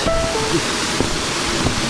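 Myeongji waterfall in a mountain valley gives a steady, broadband rush of falling water that stays close and constant, with no voices over it.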